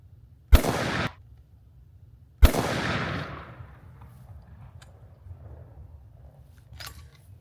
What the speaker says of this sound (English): So let's go ahead and give it a test shot.